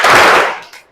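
A single loud, close hand clap in a classroom clapping drill, ending in a short decay and then a faint smaller clap.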